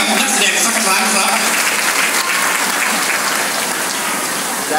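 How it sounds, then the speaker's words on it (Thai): Loud, dense applause from a crowd cheering on stunt actors at a Hollywood-style action show in an amusement park, a hissing wall of clapping that holds steady throughout. "ขอเสียงปรบมือดังๆให้กับนักแสดงสักครั้งครับ"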